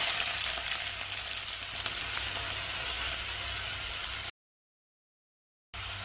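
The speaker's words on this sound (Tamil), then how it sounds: "வெங்காயம் சேர்த்து வதக்கலாம்." Onions sauté in hot oil with cinnamon and bay leaves in a pan, producing a continuous bright sizzle up close that cuts off abruptly into silence before returning briefly.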